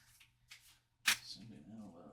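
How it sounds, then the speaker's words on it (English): A very thick stack of playing cards being shuffled, with one sharp riffling burst near the middle after a few soft rustles, and a voice talking over the end. "it's so hard to shuffle this many"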